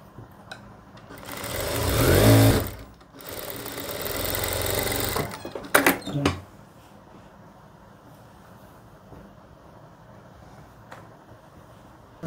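A sewing machine stitches the bottom hem of a salwar in bursts, a loud whirring run of a few seconds, a shorter second run, then brief stuttering stitches before going quiet.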